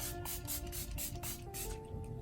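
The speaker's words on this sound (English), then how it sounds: "to set it off with some setting spray" Makeup setting spray hisses out of a pump bottle in a rapid series of short close bursts, with a few quieter spritzes toward the end and no talking.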